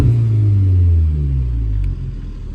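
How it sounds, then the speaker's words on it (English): A 2015 Audi S3 Quattro with a Stage 1 remap at about 350 bhp and a non-standard exhaust gives a quick rev, a loud, close, gruff rumble that swells and then falls back toward idle. "I'm going to give the engine a quick rev anyway"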